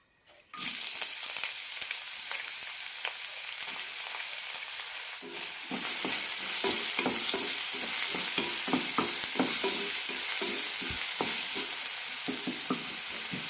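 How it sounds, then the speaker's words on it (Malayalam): Chopped onion and green chili sizzle in two teaspoons of hot oil in a pan as the masala for ragi noodles begins, a quiet start giving way to continuous close frying with frequent stirring scrapes. "പാനിലേക്ക് രണ്ട് ടീസ്പൂൺ എണ്ണ ഒഴിച്ചിട്ടുണ്ട് ഇതിലേക്ക് സവാളി പച്ചമുളക് ഇടാം"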